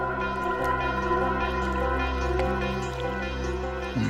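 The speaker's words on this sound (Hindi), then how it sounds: "पानी की आवाज आ रही है सर।" Faint water dripping sounds over a steady electrical hum, like noise carried through a phone line, with no talking.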